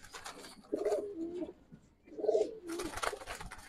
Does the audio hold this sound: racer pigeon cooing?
yes